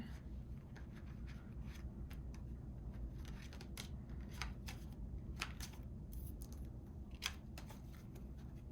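Tarot cards are shuffled and pulled in a quiet room, giving soft irregular riffling and sharp card snaps, close and alone.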